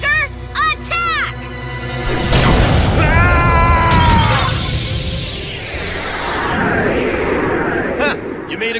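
Hungry Burger, a monster in the card battle video game Yu-Gi-Oh! Duel Links, attacks with loud synthetic booms, a bursting impact and rising effect tones, followed by a long fading rumble. A voice talks over the start.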